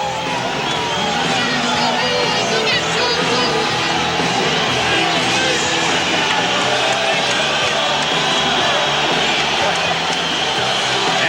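A partisan boxing arena crowd roars and murmurs continuously during a fighter's ring walk before Julio Cesar Chavez fights Joey Gamache, a dense, steady wall of cheering and yelling with commentators talking over it.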